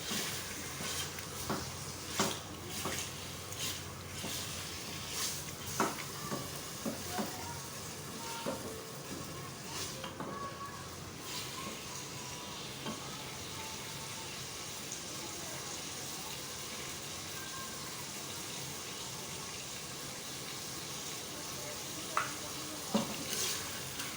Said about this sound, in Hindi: गोश्त की अच्छी तरह से भुनाई करें।